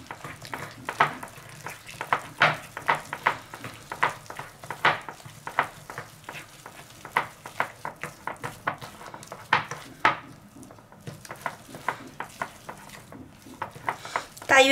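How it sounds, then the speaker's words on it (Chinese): Sesame paste stirred in a bowl as it thickens, a continuous run of close scraping, clicking strokes in quick rhythm, fairly loud and steady throughout. "这个芝麻酱会越搅越稠。"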